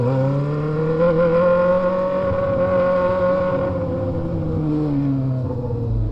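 Two Honda Hornet motorcycles hold a loud, steady, high engine drone close by, with only slight changes in pitch and no pauses.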